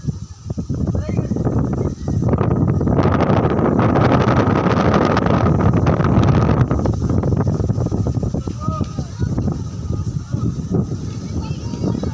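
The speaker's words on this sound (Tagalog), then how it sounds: "Ang lakas ng hangin." Strong wind on a mountaintop overlooking Laguna Lake buffets the microphone in loud, continuous roaring gusts that swell in the middle and ease slightly toward the end.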